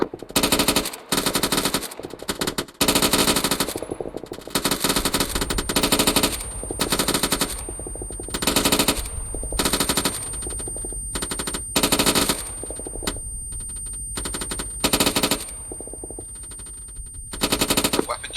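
Machine gun fire on a training course in the military game Arma 3, many loud close bursts of rapid shots separated by short gaps, repeating steadily, with a faint tone running underneath.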